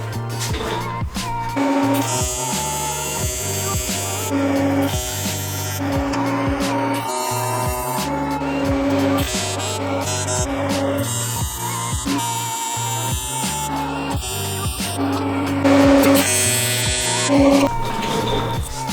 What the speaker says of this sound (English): So I'm gonna weld this real quick